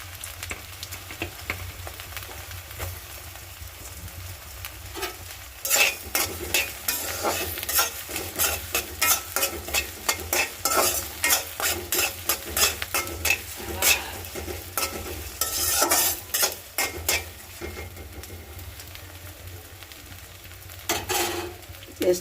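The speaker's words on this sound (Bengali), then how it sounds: "পেঁয়াজটা ভাজা হোক।" Onions frying in hot oil with garam masala, a continuous sizzle under rapid repeated stirring and scraping strokes against the pan, close and moderately loud, with a few metallic clinks and no talking.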